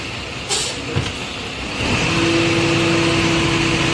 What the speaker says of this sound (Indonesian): lihat tuh ada truk sampah